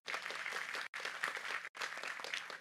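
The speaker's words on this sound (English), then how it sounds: "Really, really big applause, because you are the best ambassadors of your country." Audience applause at an economic conference session, dense steady clapping from a roomful of people, heard in three edited bursts separated by brief cuts.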